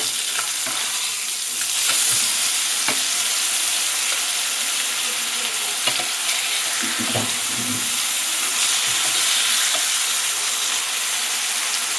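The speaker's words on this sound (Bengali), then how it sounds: "তো এক পিঠটা ভালো করে ভাজতে দিয়ে দিয়েছি ফ্রাই করে নেব" Masala fish fries in a pan with a loud, steady, close sizzle that never lets up, plus an occasional scrape or clink, without any voices.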